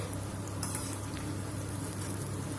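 Sliced onions with a spoonful of sugar fry in a pan for a mutton kosha mangsho, giving a steady, fairly soft sizzle with a faint low hum underneath and no voices.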